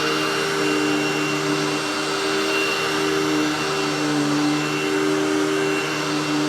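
Bagged vacuum cleaner running on worn medium pile carpet, a loud, steady motor whine with constant airflow roar, close by and without talk.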